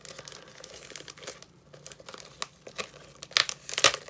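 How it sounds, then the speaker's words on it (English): Plastic wrap peeled off a drying clay bowl, close-up crinkling and soft tearing rustles that grow louder and sharper toward the end. "remove the plastic wrap from the bowl"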